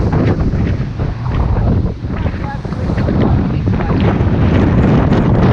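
Strong wind on a bushwalk at Hanging Rock, roaring and buffeting the microphone in a loud, continuous rumble with gusts rising and falling throughout.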